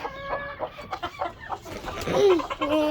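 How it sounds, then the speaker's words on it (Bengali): A rooster among backyard poultry sounds close by, with a string of sharp clucks followed by a rising, crow-like call. "এই যে একটা মোরগ"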